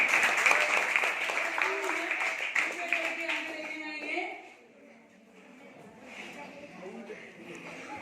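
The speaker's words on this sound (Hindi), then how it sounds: "तालियां बजाइए।" Classroom applause during a school Hindi quiz, a dense wash of clapping from many students that rings loudly for several seconds, then fades to a quieter murmur of voices and scattered claps.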